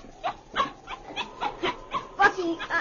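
In an old radio drama, a dog whimpers and yips in short pained bursts after being kicked, a series of close, uneven cries spread across a few seconds.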